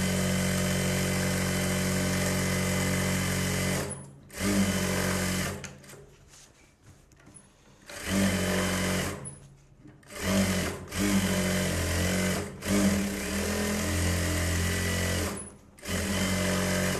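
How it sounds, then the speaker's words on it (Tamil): Sewing machine stitching around the sleeve of a Bharatanatyam dance dress, a loud close mechanical whir running in long bursts with brief stops and starts between them. "ஸ்லீவில் சுற்றி ரஃபாக தையல் போடுவோம் இல்லையா."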